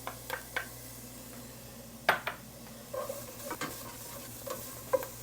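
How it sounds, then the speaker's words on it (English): Sweet red pepper and onion sauteing in olive oil for a Cajun cassoulet, with a faint steady sizzle under repeated sharp clinks and scrapes of a spoon stirring against the pan, no talking. "I'm going to saute this for another 2 or 3 minutes, along with my onion"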